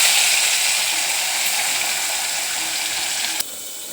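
Pieces of shankar (ray) fish fry in hot oil with a steady, bright hiss that dips slightly after a sharp click near the end. No one speaks.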